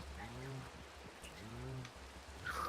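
Steady rain falls in the modded Minecraft game as a soft, even hiss of drops throughout, with a voice talking over it.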